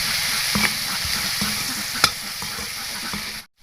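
Fish frying with salt and turmeric, with a steady close sizzle while a spoon stirs and scrapes the pan in occasional clacks.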